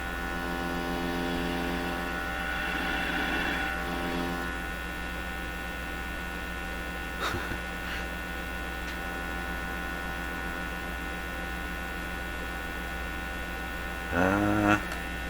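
A 1925 Lacault Ultradyne radio receiver being tuned, giving a steady hiss and mains hum with faint drifting tones, a couple of brief clicks midway and a short warbling whistle near the end, quiet and with no talk.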